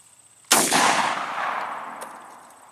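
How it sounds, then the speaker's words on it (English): A single loud, sharp gunshot cracks nearby and leaves a long decaying echo, followed by a faint later thump. "for your entertainment, I'm gonna shoot something"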